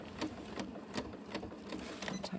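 Stitching fabric down for a tote bag, a sewing machine runs at a slow pace, producing quiet, close, rhythmic stitch ticks with a faint motor hum underneath.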